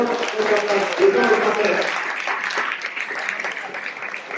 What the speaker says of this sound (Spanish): un fuerte aplauso para Leo.